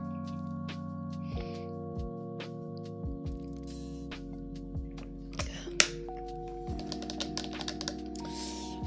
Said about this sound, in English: Water bottle nails ASMR.